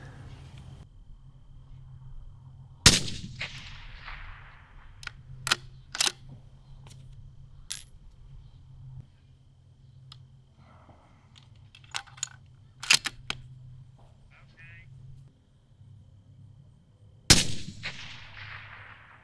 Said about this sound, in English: I'm gonna shoot at our clean target.